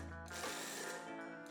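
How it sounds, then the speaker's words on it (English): A small food processor pulses a shallot in short motor bursts, a steady whir rising and dropping over about a second and a half, close and alone with no talking. "So to a small food processor, I have a small shallot, and I'm just gonna pulse that a few times to break that up."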